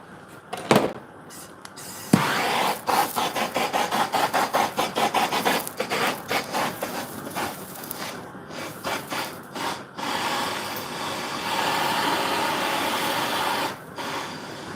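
A butchered pig carcass is scraped by hand, with repeated rhythmic rasping strokes, sometimes in quick bursts and sometimes drawn out, close and fairly loud.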